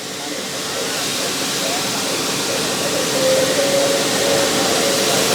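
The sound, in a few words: cut plastic flowing with water through dewatering unit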